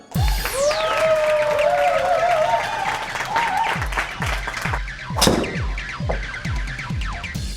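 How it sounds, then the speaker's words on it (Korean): Applause from the crowd at a Korean long drive golf league final, a dense, sustained patter of clapping with scattered sharp thuds and a brief sweeping tone near the start, fading somewhat toward the end. "박수 한번 주세요."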